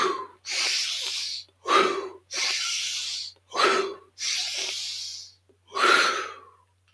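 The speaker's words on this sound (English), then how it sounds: "5 deep breaths." A series of deep breaths taken during a morning activation routine, with alternating long airy inhales and sharper exhales repeated about four times at a steady rhythm, heard close and clear with no talking.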